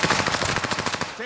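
Sustained automatic machine gun fire in Call of Duty Warzone, a loud, continuous rapid burst of gunshots filling the whole moment with barely any pause.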